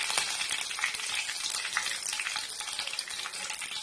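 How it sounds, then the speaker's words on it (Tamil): Curry leaves frying until crisp in hot oil, added last to a pan of spiced masala peanuts, a dense, bright, continuous crackling sizzle throughout, close and fairly loud, with no speech. "இப்போ நம்ம கடைசியா கொஞ்சம் கருவேப்பிலையும் போட்டு லைட்டா மொறு மொறுன்னு பொரிய விட்டு எடுத்துக்கலாம்"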